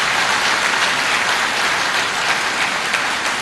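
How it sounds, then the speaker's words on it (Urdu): Graduation ceremony audience breaks into loud, sustained applause, a dense wash of clapping from a large crowd continuing steadily throughout with no voices over it. "زوردار تالیاں تو بجائیں"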